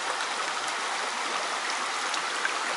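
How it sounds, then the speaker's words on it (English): Water rushes steadily at the headwaters of the Nišava river, a dense, continuous hiss of a flowing stream close by with no pauses and no voices. "And this is really Nišava river."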